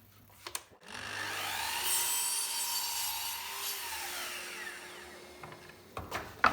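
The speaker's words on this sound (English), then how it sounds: "first of all I need to trim off the waste on the end" Handsaw trimming the waste off the end of a wooden piece at a swing fence stop, steady back-and-forth rasping strokes at close range for several seconds, ending with a few light knocks.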